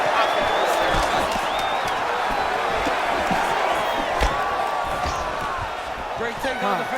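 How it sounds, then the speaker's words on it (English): Arena crowd roaring and whooping during a UFC 5 video game bout, a constant loud wash of cheers with sharp thuds and shouts, heard under commentary talk. "Yeah, the crowd loves the stand-up fight."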